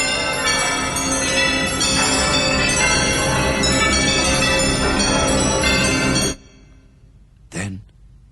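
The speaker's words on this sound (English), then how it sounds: "it rang out loudly, and so did every bell in that huge empty house" Many bells ring together through a huge empty house in a radio drama of Dickens's A Christmas Carol, a loud, dense clangour that rings continuously, then stops abruptly into silence before a brief vocal sound.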